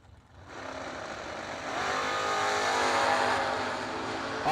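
Two drag racing cars, one a Chevy Nova, launch off the start line at a bracket race, engines rising quickly into a loud sustained roar that holds steady as they pull away.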